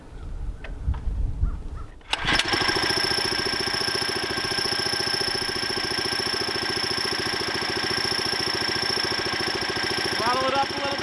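A homemade trommel's small engine cranks and catches after a brief rustle, then settles into a steady, loud, close idle with an even mechanical rhythm and a faint high whine running throughout.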